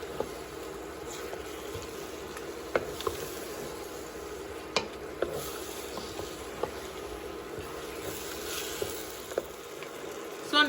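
Water spinach greens fry down in a pan with a soft, steady sizzle, while a spoon occasionally scrapes and clicks against the pan as the greens are stirred.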